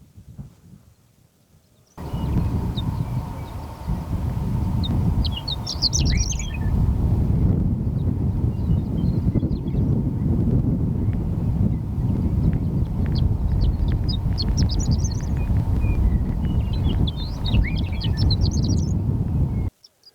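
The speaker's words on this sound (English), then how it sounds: "We're surrounded by Western meadowlarks. There's probably half a dozen individuals around us." Western meadowlarks and horned larks singing in open country, several birds giving scattered bright chirps and song phrases over a steady wind-like rumble, some fairly near.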